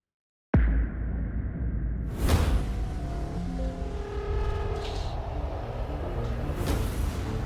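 Cinematic whoosh sound effects for a movie-style trailer reveal, with a sudden loud swoosh hit followed by a sustained rumbling, airy bed and further sweeping whooshes throughout.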